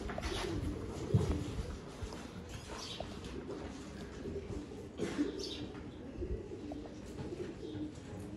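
Soft, continuous cooing from many pigeons kept together in a loft, a steady low murmur with a few louder calls rising above it throughout.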